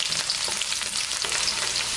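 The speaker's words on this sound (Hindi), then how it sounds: "तो अभी इसमें फर्स्ट जाएगा गार्लिक और हरी मिर्च, इसको अच्छे से तेल में सॉट कर लें।" Garlic and green chilli sauté in hot oil over a medium-high flame for a Chicken Manchurian sauce, giving a steady, loud hiss and crackle of frying close by, with soft stirring and no voices.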